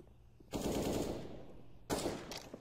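Gunfire in a Counter-Strike match during a professional esports game: two sharp bursts of rapid automatic shots, the first longer and the second shorter, loud and close.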